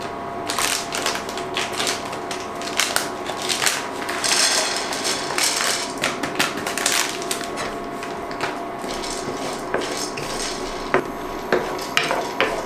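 Pine nuts roasting in a pan with a splash of olive oil, giving a dense, steady crackle and tapping, with no talking.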